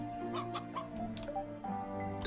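A chicken clucks in the video game Ys Celceta, a few short clucks over steady ambient game music with gentle tonal layers, the bird sounding near and moderately loud within the mix.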